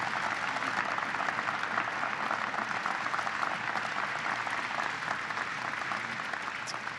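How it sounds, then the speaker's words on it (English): Sustained audience applause at a National Space Council event, a dense steady wash of many hands clapping throughout, fairly loud and even with no talk over it. "Would you please give them another round of applause for making this"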